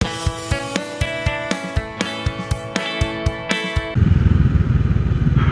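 Honda Rebel motorcycle with a regular thumping engine pulse and harmonic drone, then a shift to a rougher, louder rushing roar of riding with wind.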